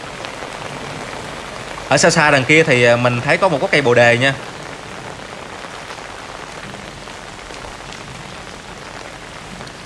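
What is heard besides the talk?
heavy rain falling on a flooded temple courtyard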